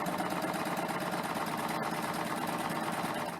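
A serger running a cover stitch on fabric gives a steady, fast mechanical whir with a dense rhythmic chatter, close and continuous from start to finish.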